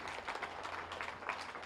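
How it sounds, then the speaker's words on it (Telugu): An audience at an indoor gathering claps in a soft, steady patter of applause that sounds fairly distant and continues without a break. "సో గట్టిగా చప్పట్లు మేడంకి ఒకసారి."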